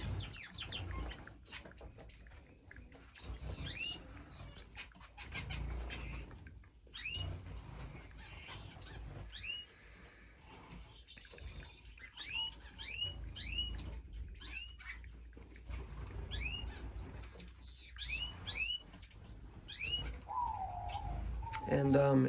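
Finches chirp and tweet repeatedly in an indoor aviary, bright short calls scattered throughout over a low room hum, with someone talking at times.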